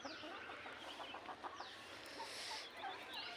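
A young hen that has just laid her first egg clucks softly in a village farmyard, several short, quiet calls over faint background sound.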